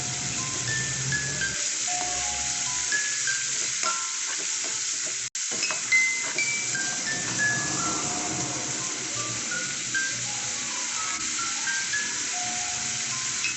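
Squid pieces frying in hot oil for a squid curry, a steady close sizzle with occasional stirring scrapes, plus a brief break partway through.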